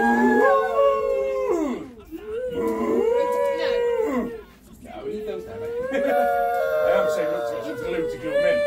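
Several children imitate dog howls together, rising and falling wails in long sustained bursts with brief pauses, loud and close, during an indoor family animal-yoga fitness session.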